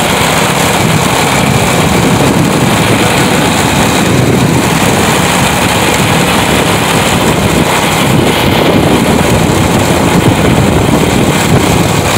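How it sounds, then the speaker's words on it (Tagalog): A vehicle engine runs steadily and loudly throughout, a continuous low rumble mixed with wind buffeting, with no pauses. "pinaandar ko li ang makina, pinaandar ko makina"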